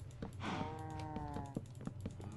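Minecraft cows mooing close by, one long low moo followed by shorter overlapping lows, with faint key clicks underneath.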